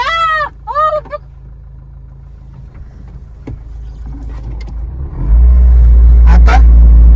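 A car engine idles as a low, steady rumble, then grows much louder and heavier near the end as it revs up close by. Brief voices are heard at the very start.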